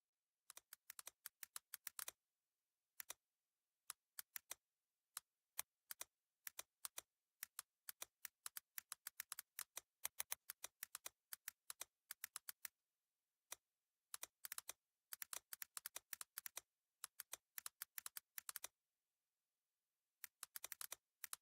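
Bursts of quick, crisp clicks from a computer keyboard, typed in irregular runs with short pauses between them, close and fairly quiet, with no voices.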